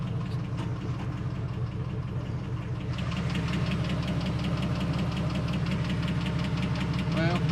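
Car engine idling after an oil change, a steady low rhythmic rumble with ticking clatter, close and continuous, with a lighter rattling layer joining partway through.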